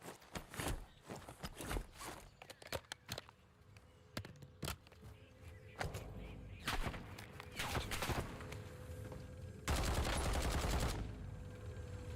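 Video game shooter gunfire rings out in bursts of sharp shots and rapid automatic fire, with a dense sustained volley near the end, mixed with footsteps and movement noises, fairly faint overall.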